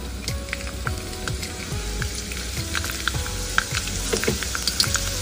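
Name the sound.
chopped garlic frying in a pan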